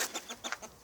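A Silkie hen or a Faverolles rooster gives a quick run of short, close clucks in rapid succession, lasting under a second.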